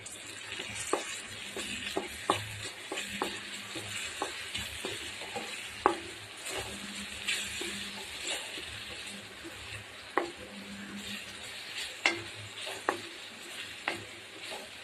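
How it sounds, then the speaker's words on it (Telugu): Masala powder and ginger garlic paste stir-fried together for an ivy gourd curry, a steady sizzle in a pan broken by regular scraping strokes of a spoon, with no talking. "మసాలా పొడి, అల్లం వెల్లుల్లి పేస్ట్ 3 నిమిషాలు కొంచెం బాగా కలుపుకుందాం."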